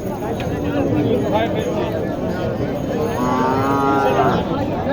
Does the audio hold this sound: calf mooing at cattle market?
yes